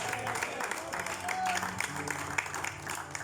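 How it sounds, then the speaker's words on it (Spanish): Congregation applause during a sermon, a steady patter of clapping heard together with voices and crowd murmur throughout. "¿Cuánto le dan un fuerte aplauso al Señor?"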